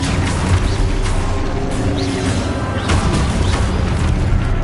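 Magic spell blasts from a Hogwarts video game: loud, dense booming explosions and crashing bursts follow one another without pause, filling the whole stretch with heavy rumble.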